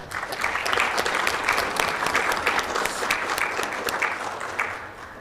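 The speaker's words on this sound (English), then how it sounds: "So let's give a round of applause for Domestic Violence Awareness Month." Audience members at a mayor and council meeting give a round of applause, loud and sustained, then tapering off near the end, with no voices over it.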